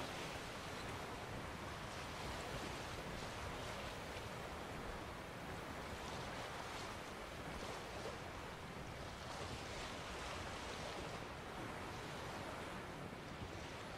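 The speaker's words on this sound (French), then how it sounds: "je sais pas si le bateau se bouge en fonction des vagues" Ocean waves wash continuously around a sailing boat in The Witcher 3 video game, a loud, steady surf-and-wind roar with no pauses or voices.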